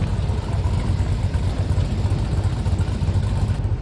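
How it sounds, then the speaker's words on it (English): A 2013 pickup truck with an LS engine swap and a ProCharger supercharger runs steadily at a car meet, giving a loud, continuous low rumble close by with no pauses. "Y'all know why this truck sounds so good? Because it's got the LS swap."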